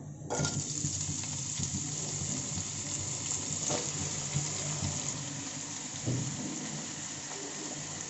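Sliced bitter gourd dropped into about two tablespoons of hot oil in a pan, a steady bright sizzle and crackle that flares at the start and continues evenly, close and fairly loud, with no talking.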